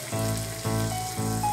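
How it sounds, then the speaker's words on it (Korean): Marinated chicken pieces searing in a frying pan with cooking oil and melted butter, a steady loud sizzle with brief surges as pieces settle, close and continuous with no talking. "이제 재워둔 닭고기를 구워볼게요."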